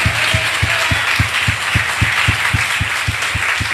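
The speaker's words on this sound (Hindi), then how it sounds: "ताली बजाइए, अगर हिम्मत है तो जोर से बजाओ" Audience at a church sermon claps in a steady, quick rhythm, with sharp regular beats over a broad wash of crowd noise that stays loud throughout.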